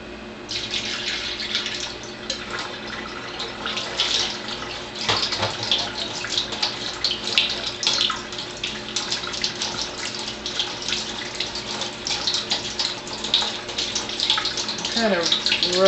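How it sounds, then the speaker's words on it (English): Running tap water rinsing an egg that had soaked in vinegar, a continuous close splashing and trickling stream with small shifts as the egg is turned under the flow. "I'll rinse this one off."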